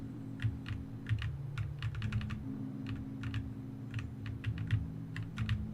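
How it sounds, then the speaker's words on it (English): Steady stretches of computer keyboard typing during a game stream, the crisp key clicks coming in quick runs over a droning background hum with no one talking. "It's gonna be me and my friend keyboard noises for a while."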